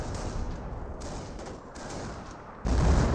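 M2 Howitzer artillery in Company of Heroes shelling an MG42 position and Grenadier infantry, a dense, continuous roar of battlefield fire with a loud new impact crashing in near the end.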